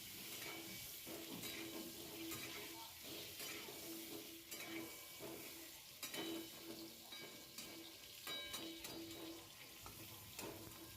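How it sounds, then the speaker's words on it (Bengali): Potatoes fry in hot oil seasoned with salt and turmeric for a mutton curry, giving a soft, steady sizzle and hiss with occasional stirring scrapes of a pan, heard alone and fairly quiet. "আলুগুলোকে ভেজে নেবো আমি"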